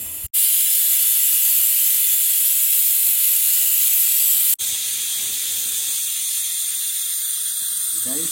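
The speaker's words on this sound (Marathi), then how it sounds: "पहिली शिटी वाज चालली आहे" A pressure cooker whistles loudly and continuously while cooking prawn biryani, its steady hiss breaking off briefly midway and then resuming at a slightly lower level.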